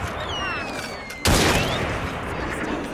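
A single loud gunshot in the Assassin's Creed Syndicate video game, set in Victorian London, cracks out with a sustained ringing tail, preceded by whistling game effects, with voices around it.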